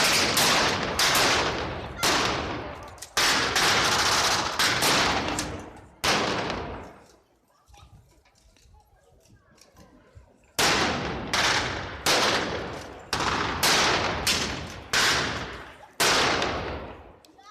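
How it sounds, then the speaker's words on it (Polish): Battle reenactment gunfire from Mosin and Mauser rifles and submachine guns crack out in rapid, irregular volleys and bursts, close and loud, with a brief quieter lull midway before the shooting resumes. "strzałów z karabinów Rosin i Mauser i pistoletów maszynowych"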